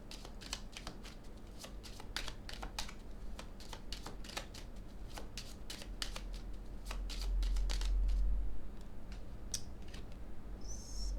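Tarot cards are shuffled by hand in a quiet room, giving a rapid run of soft riffling flicks and taps that continue steadily throughout.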